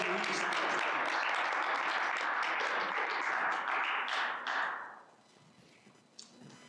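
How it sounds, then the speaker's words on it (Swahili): Audience applause at a community leadership seminar in Denver, Colorado: dense clapping from a room of people, sustained and loud, then dying away near the end and leaving quieter room sound. "nitaomba kwa tujipigie makofi kwanza, kwa sababu sisi ni watu muhimu sana."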